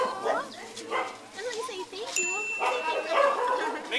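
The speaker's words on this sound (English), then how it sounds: "I hope you liked the singing by the dogs" Several dogs yelp, whine and bark in a wavering, song-like chorus with a brief chime midway.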